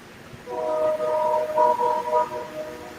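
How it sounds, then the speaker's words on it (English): A train horn sounds from a distance, a steady tonal blast swelling and fading over a few seconds against low background rumble as the train approaches through a nearby backyard. "Uh-oh, I hear the train coming."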